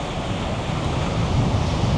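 Ocean surf rolling onto the beach at Grenen, a steady broadband wash with gusting wind buffeting the microphone, no voices.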